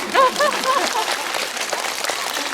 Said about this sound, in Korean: 그 어려운 연기를 해주는 박서준 씨께 박수 한번 주시죠